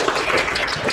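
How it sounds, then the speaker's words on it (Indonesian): A short burst of clapping from a seminar audience, dense and fairly close, lasting about a second. "kami minta tepuk tangan untuk Pak Rizka"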